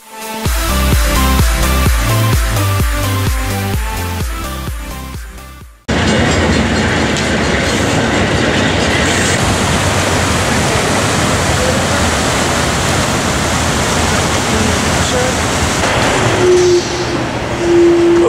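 Loud train noise fills the scene at Brattleboro, Vermont: a steady rumbling roar of wheels on rails, preceded by a brief burst of music, continuous and close.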